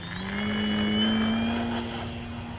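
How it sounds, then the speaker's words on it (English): A radio-controlled precision aerobatic plane takes off, its engine giving a steady droning whine that rises slightly in pitch and swells in loudness before easing, heard alone at moderate distance. "Simple takeoff, but for those of you who don't have a PA plane, watch how nice and beautifully this thing takes off."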